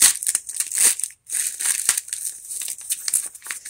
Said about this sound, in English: we have a cat who's helping himself to the wrapping paper now.